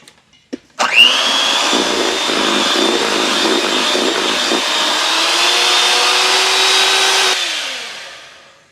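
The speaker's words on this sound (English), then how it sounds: "I'm going to do one more little swirl with the mixer" An electric hand mixer whirs steadily through chocolate cake batter for about six seconds, loud and close, then winds down and stops.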